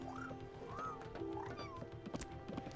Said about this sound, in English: Daffodil's meow sounds like Togepi.